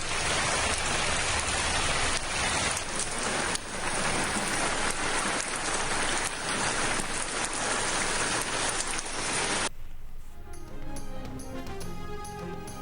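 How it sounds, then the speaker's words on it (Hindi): Heavy rain falls in coastal Balochistan, around Gwadar and Jiwani, as a dense, steady hiss of drops on surfaces for nearly ten seconds before it cuts abruptly to a quieter, different sound. "गवादर जिवनी समेत मुख्तलिफ इलाकों में बारिश।"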